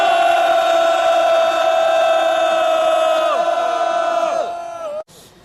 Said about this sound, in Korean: 오후 집회를 여러분들의 힘찬 함성으로 시작하겠습니다